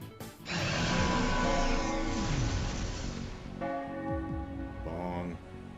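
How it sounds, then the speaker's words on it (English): A bell in the video game Trails to Azure tolls with a strong ringing strike and long tonal decay, followed by further fainter chimes and game sounds, with no talking. "KeA, you ring that bell one more goddamn time."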